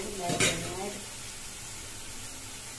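Marinated masala cooking in a pan over a gas flame, an early burst of louder sizzling that settles into a quiet, steady frying hiss.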